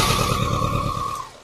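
A BMW K100 motorcycle with an over-fuelling fault runs with a loud, steady engine roar close by, then fades and cuts out toward the end.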